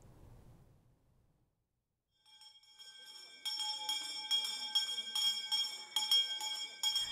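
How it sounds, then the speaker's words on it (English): A hand bell rung by a kindergartner in front of the whole school on the first day at a charter school in Brooklyn Park, starting after a brief quiet and then clanging repeatedly and loudly in a steady, fast rhythm. "starts their school year with a kindergartner ringing a bell in front of the entire school"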